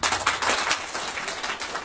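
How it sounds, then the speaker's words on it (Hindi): Loud, dense applause from a large crowd of Nepali listeners at a Maithili poetry reading in Malaysia, steady clapping filling the whole stretch with no voices over it. "यदि नीक लागे तो अपने सब जोर से एक बार ताली दे देब।"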